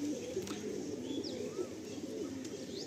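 Pigeons coo softly at a Madrasi pigeon loft, low throaty calls rolling over one another, with a few thin chirps and light clatter above.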